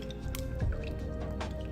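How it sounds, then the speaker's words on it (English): Pancake batter stirred with a fork in a bowl, producing soft wet squishing and sloshing with a few small taps, close and brief, with no voices. "and mix this up again"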